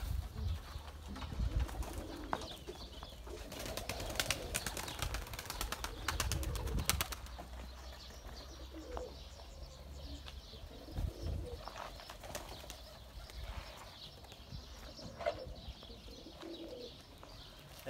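Pigeons coo inside a pigeon coop, soft repeated throaty calls near and far, with occasional wing flutters and clattering knocks mixed in.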